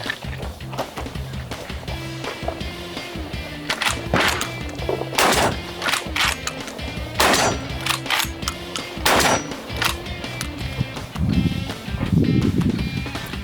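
Repeated shotgun blasts firing buckshot, sharp loud reports spaced irregularly over several seconds, with faint background voices and movement between shots.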